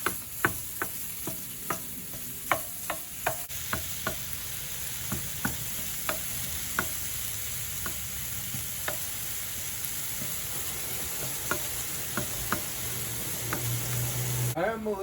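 Red meat sizzling on a gas stove in a living vehicle, a constant hiss and crackle with sharp ticks and scraping stirs at irregular intervals, fairly close.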